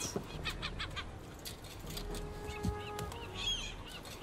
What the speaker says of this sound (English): Look at these dumb birds.